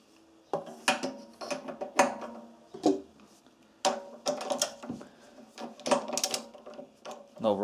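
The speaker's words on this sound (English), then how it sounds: "I'm just going to take the spark plug out" Ratcheting socket wrench with a 21mm socket and extension loosening the spark plug on a Honda GX160 engine: bursts of close metallic clicks in short irregular runs.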